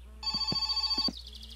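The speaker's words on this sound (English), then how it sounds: "Phone." An in-game telephone rings in the video game My Summer Car, giving a close, loud electronic bell trill in a single sustained burst that stops abruptly, with no one talking.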